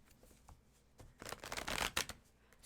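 Tarot cards are shuffled close by, a few faint taps at first and then a soft, fluttering riffle that swells for about a second before stopping.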